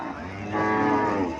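A cow at a cattle market in Comilla, Bangladesh moos once, a long, loud, drawn-out low call close by that swells midway through and fades at the end.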